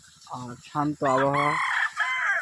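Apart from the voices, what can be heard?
rooster crowing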